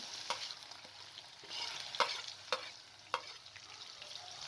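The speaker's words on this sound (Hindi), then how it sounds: "एक पैन के अंदर 1/2 कप कुकिंग ऑयल डाल के लहसुन डाल दें। साथ में प्याज को भी शामिल कर दें।" Garlic and onion frying in half a cup of cooking oil for a dal tempering, a light crackling sizzle punctuated by several sharp clinks and taps of stirring, close and fairly quiet with no speech.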